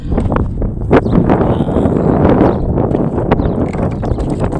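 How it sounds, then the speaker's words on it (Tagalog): Steady strong wind blowing across open, treeless sandy ground in Saudi Arabia, buffeting the microphone with a constant low roar and occasional rustling gusts; no voices are heard. "Medyo mahangin siya, kasi mahangin kasi wala naman ganong puno dito."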